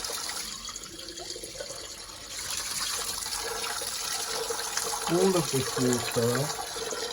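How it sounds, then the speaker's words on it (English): Spring water running steadily from a tap in Chefchaouen, heard as a continuous close rush and splash, with a person speaking briefly near the end. "It's source water coming out of a tap."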